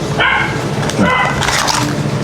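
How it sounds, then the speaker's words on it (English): A dog barks in a few sharp, loud bursts close by, with some faint background noise between the barks. "What are you barking at?"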